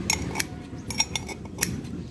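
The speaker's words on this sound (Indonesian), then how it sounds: "intinya buat motong-motong gelas ini ya" Blunt scissors snipping at a glass to sharpen the blades: a series of sharp metallic clicks and scrapes in an uneven rhythm, close and fairly loud, with no talking.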